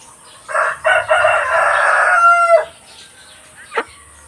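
A chicken crows loudly up close in one long drawn-out call, followed after a pause by a short clucking squawk.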